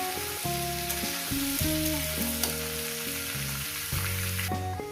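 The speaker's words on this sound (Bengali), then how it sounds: "সাত আট মিনিট ধরে ভাজতে হবে মিডিয়াম রেখে" Katla fish head and young pumpkin sizzle in oil in a frying pan over medium heat, a steady close hiss running throughout beneath a louder bed of background music.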